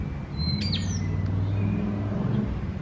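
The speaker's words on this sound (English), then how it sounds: "Listen to them birds." A bird gives a few sharp, bright chirps over a low steady engine rumble, fairly close, with a fainter call after, in a graveyard in Oldham, UK.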